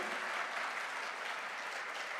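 A crowd at a promotion celebration gives an even, continuous burst of applause, dense and steady for the whole stretch with no voices standing out.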